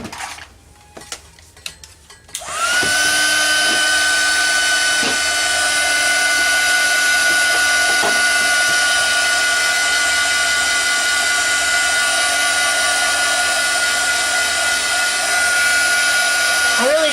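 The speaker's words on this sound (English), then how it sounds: "now I'm going to take my heat gun here and give this a dry" A heat gun dries a mixed media card made with a napkin, switching on after a few quiet handling noises and then blowing a loud, steady whining hiss right up close that holds to the end.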